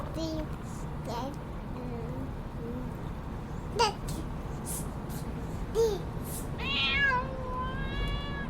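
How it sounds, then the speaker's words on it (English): A cat named Monty meows in a short rising call near the end. Other faint calls and a soft voice sit under it against a quiet background hum. "Meow, says Monty the cat."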